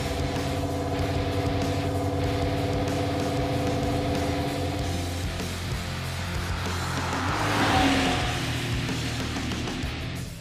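A Trans Am car driving slowly in Daytona Beach, Florida, its engine giving a rough, continuous low rumble with droning tones that builds slightly toward the end.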